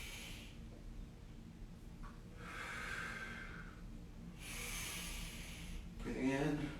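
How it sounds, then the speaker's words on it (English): Slow, deep breaths taken during a back and hip mobility exercise, with long airy inhales and exhales close to the microphone, followed by a short spoken cue. "Deep breath in."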